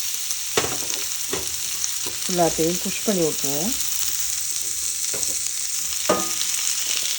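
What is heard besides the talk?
onions frying in oil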